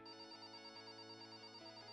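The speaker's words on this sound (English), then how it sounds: "The phone starts ringing again." Electronic telephone ringtone from the visual novel game Heartless Corporation, a steady, continuous tonal ring filling the whole two seconds, moderately loud with no talking over it.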